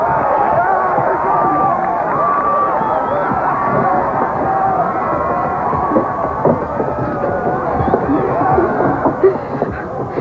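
A large crowd filling a venue with steady hubbub, dense overlapping voices and murmur at constant loudness, with a few louder shouts and cheers rising near the end.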